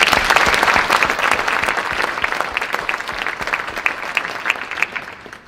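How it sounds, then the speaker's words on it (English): A school awards ceremony audience claps for the seniors, a loud, dense burst of applause that thins gradually into scattered claps. "Let's give our seniors a round of applause"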